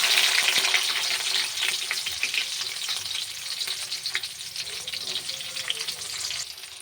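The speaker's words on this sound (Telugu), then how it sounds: "ఇప్పుడు ఆనియన్ ఫ్రై అయిపోయింది" Chopped onions sizzle and crackle in hot oil in a kadai with seasoning spices, a steady bright frying hiss with occasional stirring scrapes, close and continuous, no voices.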